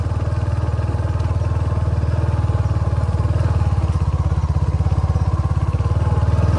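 A motorcycle rides along a rough, stony rural road in Nepal, its engine chugging in a steady, close, even rhythm with faint clatter from the bouncing bike and no voices.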